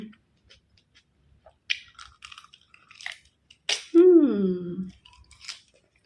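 Close, crunchy chewing of Isan sausage eaten with kale: soft, irregular bites and crunches, then a loud, drawn-out hum of enjoyment from the eater.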